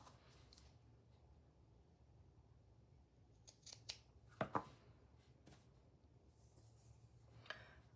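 Scissors cutting a small piece of lace in a quiet room, a few faint sparse snips and rustles with one sharper clip in the middle.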